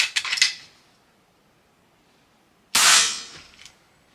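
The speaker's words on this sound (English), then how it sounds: "now I'm gonna shoot 12 shots string" An FX Impact air rifle fires two sharp, close cracks about two and a half seconds apart, each with a brief metallic ring and quiet in between.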